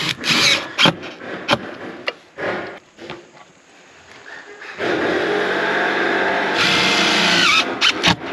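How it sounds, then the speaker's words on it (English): A power drill drives screws into wooden porch trim on a barndominium build, giving short bursts of whirring at first, then a longer steady loud drilling run near the end. "I'll just put a couple screws in it to hold it"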